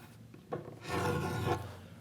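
A knife blade rasps into a wooden groove while making a simple bookcase, one short scrape followed by a longer, louder drawn cut lasting about a second, close and alone.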